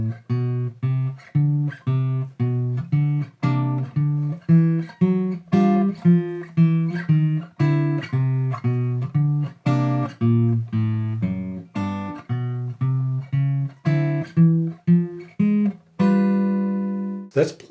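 Guitar plays a walking bass line with chords struck on each beat, using a scale approach: steady, even plucked notes with regular chord hits throughout, alone and close, ending on a sustained ringing chord.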